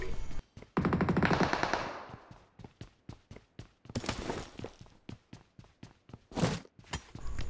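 Gunfire in PUBG Mobile rings out as rapid automatic bursts, a dense roll of shots followed by a long string of evenly spaced single cracks, fairly loud, with no talking.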